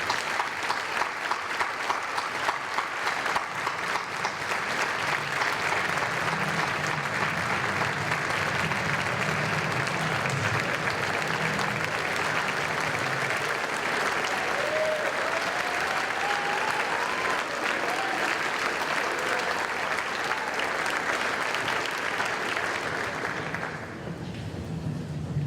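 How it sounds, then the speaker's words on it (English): An audience at an annual all-sports reception gives a long round of applause for the staff. Steady, dense clapping continues for about 24 seconds with faint voices underneath, then fades out at the end. "I want to give a big round of applause to Pam Hilligas and our whole staff."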